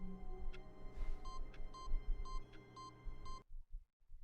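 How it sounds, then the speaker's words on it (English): Beeps in the video game The Stanley Parable sound repeatedly in a steady pattern of short electronic tones over a humming backdrop, then cut off abruptly into near silence. "Everything beeped."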